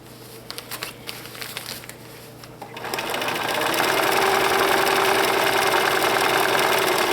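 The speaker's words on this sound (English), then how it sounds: "The needle's going to go up and down forever, so you don't have to watch the needle go up and down" Sewing machine running a satin stitch applique: a few short stitching bursts, then a steady fast mechanical whir that builds and runs continuously, close and loud with no speech.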